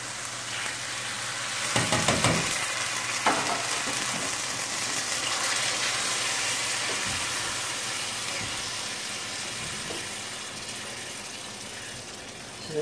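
Diced tomatoes added to hot coconut oil with toasted ginger, garlic and cumin seeds sizzle and fry in a pan, with a steady crackling hiss and a few clinks and stirring scrapes, close and continuous.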